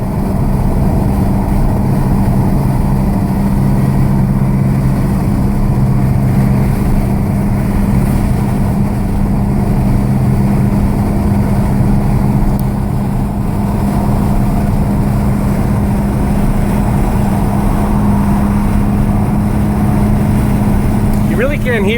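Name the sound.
Volkswagen GTI MkV turbo engine on test run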